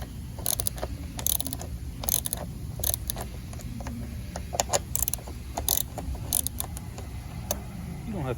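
Ratchet clicking in quick repeated bursts while loosening the fuel pump screws on a Briggs and Stratton V-twin engine of a John Deere X330 mower, close and crisp with no talk.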